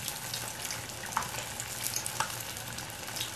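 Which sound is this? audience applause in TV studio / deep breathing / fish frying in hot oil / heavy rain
fish frying in hot oil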